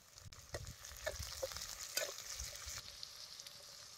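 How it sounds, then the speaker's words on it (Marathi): Onion browning in oil in a pan for an aubergine and prawn gholma curry crackles in a soft, steady sizzle, broken by a few light stirring scrapes. "कांदा बी तेलात लालसर होस्तोवर भाजून घ्यायचा"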